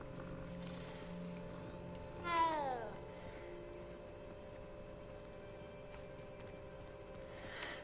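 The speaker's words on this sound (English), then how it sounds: "There's a pretty kitty." A cat in the Hogwarts Legacy video game lets out a single clear, drawn-out meow midway, over a low steady hum of game ambience with faint background tones.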